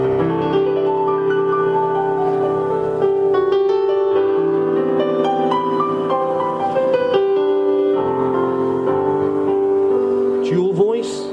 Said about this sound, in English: We've got a live grand piano, and that sounds something like this.